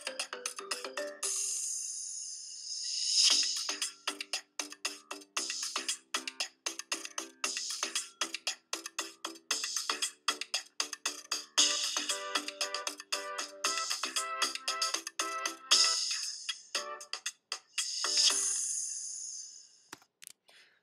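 Instrumental theme music from the Be Like Buddy autism video show: a bright, rhythmic electronic melody with tight, bell-like plucked notes that keeps going for about twenty seconds and pauses briefly near the middle and near the end.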